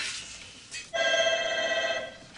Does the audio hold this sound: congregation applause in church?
no